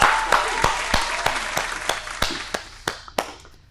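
A small studio audience applauds a guest arriving for a Punjabi TV talk show, with loose, rhythmic claps landing about three per second, crisp and close, gradually thinning out.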